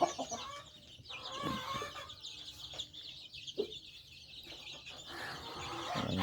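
Chickens and roughly 25-day-old chicks on a farm in rainy, cold weather, with scattered clucks and short calls rising over a steady background hiss, fairly close and moderately loud, with no talking.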